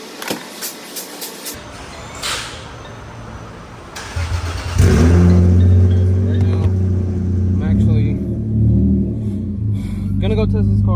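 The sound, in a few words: Lexus IS300 car driving with modified exhaust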